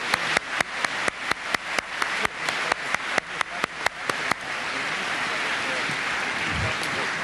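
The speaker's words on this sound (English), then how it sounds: "Let's have a round of applause." A single person claps loudly and rhythmically up close at a Nobel Conference lecture hall, about twenty sharp claps, then the clapping stops and a quieter murmur of room noise and voices follows.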